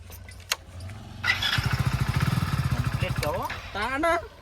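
A motorcycle engine cranks and catches, then chugs in a steady rapid pulse for a couple of seconds close by, with voices talking over and after it.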